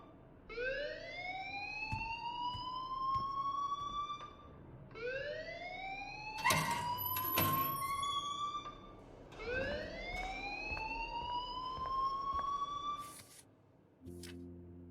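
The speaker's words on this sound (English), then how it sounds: "please turn off that alarm since that's your job" A school alarm in Life Is Strange wails in three long rising siren sweeps, loud and steady, with sharp clatters between them before it cuts off.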